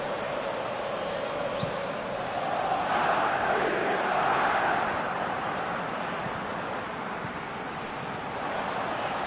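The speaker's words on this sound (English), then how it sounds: "Crowd calling for him to shoot." A large football stadium crowd roars in a broad, continuous wash of massed voices urging a player to shoot, swelling briefly louder midway before settling back to a steady distant din.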